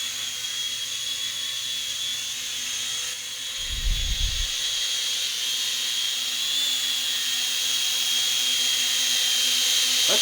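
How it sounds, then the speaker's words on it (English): A small toy drone bought from an online discount marketplace hovers close by, its propellers giving a steady, high-pitched electric whine that holds through the whole stretch, with one brief low thump partway in. "That's actually very stable for a drone."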